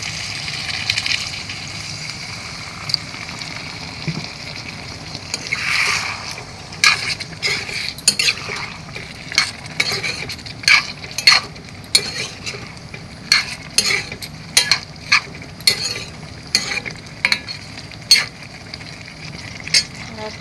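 Water goes into a pan of nine mixed vegetables and sets off a quiet sizzle, followed by a run of clinks and scrapes from a utensil stirring against the pan.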